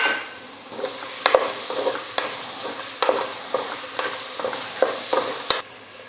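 Tomato quarters fry with sautéed onions in a pan under a steady sizzle, and a spoon scrapes and clanks against the pan in regular stirring strokes about once a second.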